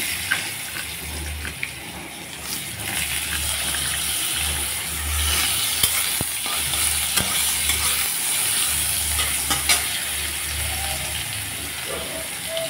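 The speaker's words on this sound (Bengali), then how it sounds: "আলুটা একটু লাল করে ভেজে নিয়ে আমি বেগুনটা দিয়ে দেবো" Potato pieces fry in mustard oil seasoned with black cumin in a home kitchen, giving a steady close sizzle and crackle with occasional stirring scrapes throughout, and no voices.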